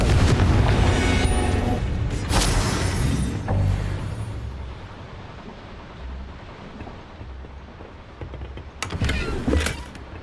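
A Bombarda blast spell in Hogwarts Legacy: a deep booming explosion with sharp cracks at the start, a long rumbling fade, then another burst of crackling impacts near the end.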